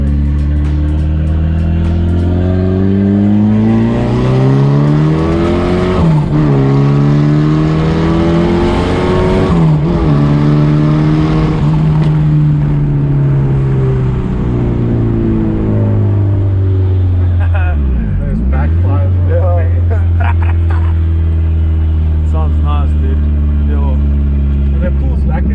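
A modified VW MK1 Golf with a 2.0L 8V turbo engine accelerates hard on a dry road, revs rising steadily through several gear changes with brief drops between, loud and close, with occupants talking over it.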